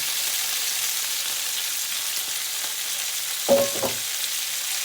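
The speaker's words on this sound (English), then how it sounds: "You've got to stir fry this and drop the heat." Spicy cauliflower stir-fries in a pan on an electric hob with a constant close sizzle, a few soft stirring scrapes and a brief clatter near the end, with no voices.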